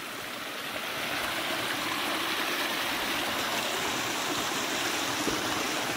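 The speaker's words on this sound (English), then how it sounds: "Ah, perfect timing for a waterfall." Waterfall along a hiking trail, a steady broad rushing hiss of falling water heard alone at moderate distance.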